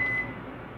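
A microwave oven gives a single short, thin beep the moment it is plugged in, then leaves a quiet room hum.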